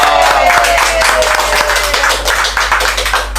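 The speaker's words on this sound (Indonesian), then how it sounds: "Tepuk tangan lu dong." A small group claps by hand during a talk show discussion about a village head's role, close distinct claps with a quick uneven rhythm, a few individual slaps standing out above the rest.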